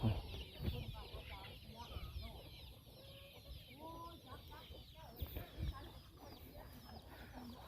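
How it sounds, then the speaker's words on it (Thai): Several chickens clucking and cackling nearby in a busy farmyard, with a soft hum of background noise. "กองทับไก่พี่น้อง"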